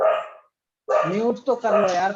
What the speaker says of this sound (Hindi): पास में कहा हुआ कुत्ते भौंक रहा है यार